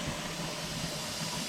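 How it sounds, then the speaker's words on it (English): A pressure canner loaded with raw-packed sweet corn vents a good, hard, steady stream of steam, making an even, unbroken hiss that is fairly faint and has no voices over it. "we got a good hard steady steam coming out"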